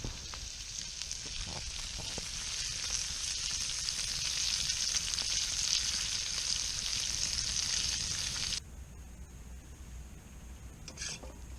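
Breakfast sizzles steadily in a small stamped steel skillet over an open campfire, a loud continuous frying hiss that drops off abruptly near the end, leaving quieter outdoor ambience.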